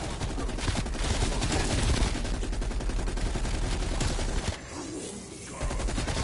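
Continuous loud automatic gunfire in Call of Duty Cold War Zombies, a dense unbroken stream of rapid shots and booms that stops abruptly near the end and leaves quieter game noise.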